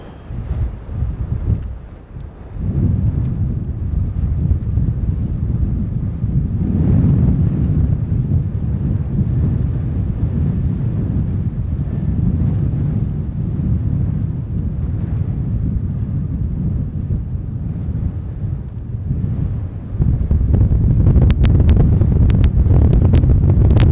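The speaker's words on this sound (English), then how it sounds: "Oh, very fierce wind." Fierce wind at an airport runway buffeting the microphone, a loud continuous low rumble with gusts rising and falling for the whole stretch, with no talk.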